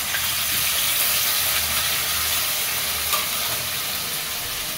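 Chicken pieces frying in onion paste with ground black pepper, coriander and cumin, a steady close sizzle with occasional stirring scrapes throughout.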